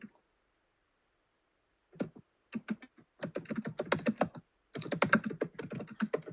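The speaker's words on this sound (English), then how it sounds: "Who's typing? Can you not?" Computer keyboard typing on a community voice call: bursts of quick, close clicks begin after a short silence and come in uneven clusters, growing denser and then pausing briefly before continuing, with no talking.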